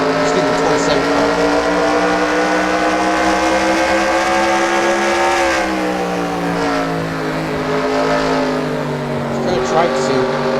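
Race car engines in the NASCAR Racing 2003 video game drone steadily and loudly, with harmonics that sweep up and down as the cars run in a pack, while someone talks over them throughout.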